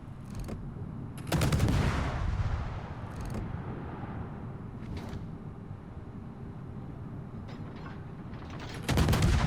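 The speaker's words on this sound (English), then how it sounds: "And we just start shooting because he's not going to turn his gun in time." Warship guns firing in a naval battle video game, heavy booming salvos with long rumbling tails, one big blast early and another at the end over a constant low engine and sea drone.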